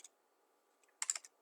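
A brief burst of quick keystrokes on a computer keyboard, quiet and close in an otherwise near-silent room, with one faint tap just before.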